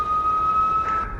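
Police car siren in American Truck Simulator, a steady high electronic tone sustained for about a second at moderate loudness before cutting off, with no voices.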